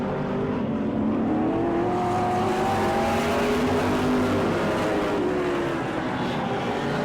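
Race cars lap the short track at the Auburndale season opener, several engines blending into one loud, continuous roar with pitches that sweep up and down as the cars pass.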